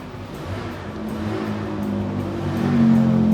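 An old Suzuki Katana car engine, fitted with Nippon Denso air conditioning, idles with a steady low rumble that swells slightly louder toward the end, with no talking over it.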